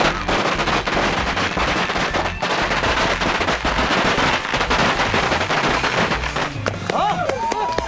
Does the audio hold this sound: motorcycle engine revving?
no